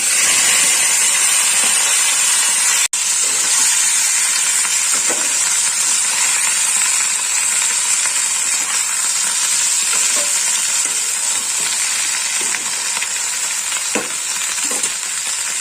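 Eggplant frying in a hot pan for a Bengali begun kasundi puti fish jhal, with a steady loud sizzle and hiss that runs throughout, broken by occasional stirring scrapes and one brief dropout.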